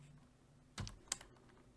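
Two separate key clicks on a computer keyboard, the F4 key pressed while entering an Excel lookup formula, crisp and close in an otherwise quiet room.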